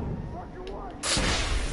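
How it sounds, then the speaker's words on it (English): A gunshot fired at a lock in the video game The Order: 1886, a single loud broadband blast that hits suddenly and rings out over the game's background sound. "Maybe I can shoot through the lock."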